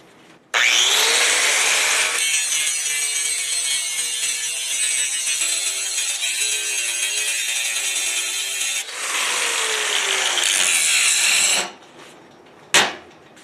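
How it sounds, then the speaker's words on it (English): An old abrasive cutting disc grinds through rusty railroad track steel with a loud, sustained, close screech. It cuts steadily for about eleven seconds, breaks off briefly partway through, then finishes with a short final burst. "Now this is an old cutting wheel, or cutting disc,"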